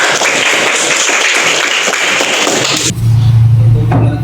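A class of participants in a teacher-training session claps in a dense, loud burst for about three seconds. The clapping then stops abruptly, leaving a low steady hum.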